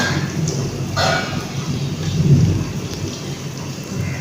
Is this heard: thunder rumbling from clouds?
yes